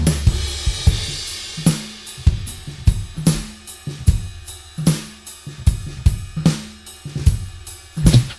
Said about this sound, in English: So I have the swell crash, I have the shaker and tambourine and my drums,